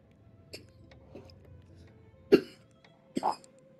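Two short coughs in a video game, The Devil In Me, break through a quiet background, the second a quick double burst, preceded by faint clicks and shuffling.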